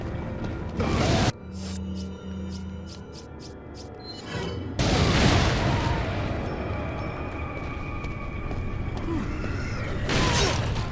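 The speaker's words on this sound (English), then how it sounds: "why don't we hit him with a flame grenade?" A flame grenade goes off in Resident Evil 4, a heavy whooshing burst of fire that swells and roars on as a sustained crackling blaze, following rhythmic mechanical clicking and ahead of another flare near the end.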